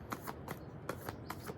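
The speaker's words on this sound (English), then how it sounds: "I shuffle the deck and just see what might unfold today" An oracle card deck being shuffled by hand, a few quick riffling bursts in rhythmic succession, close and soft with no talk.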